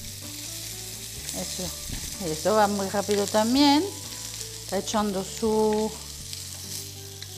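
Sausage and smoked bacon fry in a pan with a steady crackling sizzle throughout, while someone talks over it.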